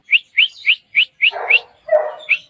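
A pet pigeon gives about eight quick, high, squeaky calls in a regular series, close and clear, with a couple of rougher, lower calls mixed in near the end.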